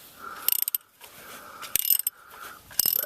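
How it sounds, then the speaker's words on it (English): Ratchet loosening the oil drain plug on a 2002 Mazda MPV: several bursts of rapid, close clicking, each followed by a quieter pause, repeating three times. "the ratchet is set for counterclockwise. I'll loosen that off."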